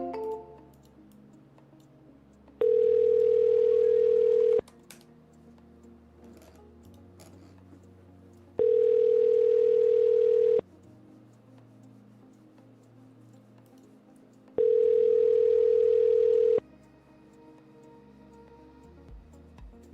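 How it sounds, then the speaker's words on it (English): Telephone ringback tone heard while calling a real estate lead, three steady two-second tones spaced about four seconds apart, loud and clear over faint background. "Let's call this guy Scott."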